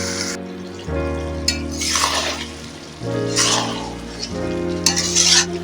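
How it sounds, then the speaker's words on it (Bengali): Chicken curry is stirred in a pan, its thick sizzle broken by several scraping, clattering strokes of a utensil against the metal, close and fairly loud, with no talk. "এইভাবে আমি নাড়াচাড়া করে একটা ডিশ দিয়ে ঢাকা রেখে দেবো"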